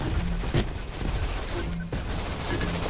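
Rapid bursts of gunfire from a minigun-style weapon in the VR shooter Gun Raiders, a dense crackling fusillade with sharp shots punctuating it, loud and close.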